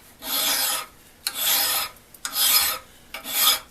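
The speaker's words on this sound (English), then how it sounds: "Take a file and run it across it, and that shows off the high spots." A metal file rasps across a component of a North Bros Yankee No 990 drill press vise in four close, even strokes, each a harsh scraping burst separated by brief pauses.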